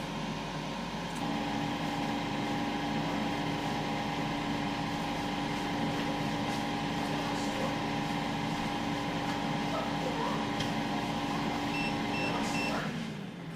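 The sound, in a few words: SARKI XL air fryer running during cooking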